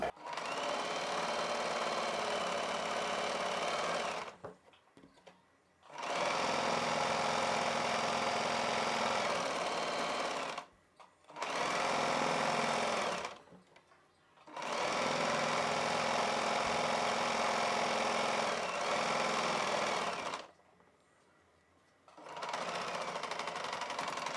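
A sewing machine stitches along the top side of an extra joined piece of a poncho, running in five long, loud, steady bursts separated by short pauses.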